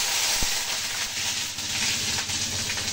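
Hog plum frying in oil with mustard seeds and dried chilli gives a steady, fairly loud sizzling hiss that continues for the whole stretch, with faint pops on top and no talking.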